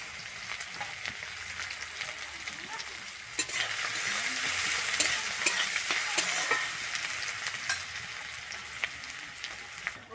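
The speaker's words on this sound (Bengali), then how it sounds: "আমি আদা রসুন আর পেঁয়াজটাকে কিন্তু হালকা করে ভাজবো" Chopped garlic and ginger frying with cinnamon and cloves in a pan for a Bengali-style chicken stew, a dense hissing sizzle that swells midway, punctuated by scattered stirring clicks, near and without talk.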